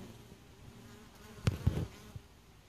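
Honey bees buzzing around a top bar hive during a clover nectar flow, a steady low drone with a few louder close passes as bees fly near.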